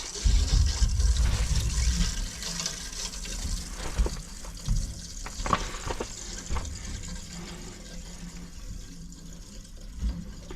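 Water rushes steadily through a newly installed water main as it is turned on, louder at first then settling into a softer continuous flow with small gurgles.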